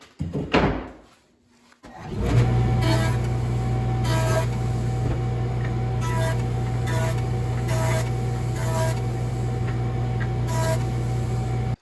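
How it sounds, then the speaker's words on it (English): A wood jointer planes the edges of an old, cracked cutting board being restored. A short thump comes first, then the machine spins up into a loud, steady hum with repeated cutting passes. "So we gotta run this, all these edges through the joiner here."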